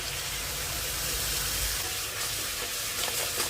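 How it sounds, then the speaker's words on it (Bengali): Spice masala with salt, turmeric, chili powder and tomato puree fries in a pan, a close, dense sizzle with stirring scrapes throughout, no talking. "মশলাটা কষে নেব। দিয়ে দিলাম নুন, হলুদ, লঙ্কার গুঁড়ো, টমেটো পিউরি"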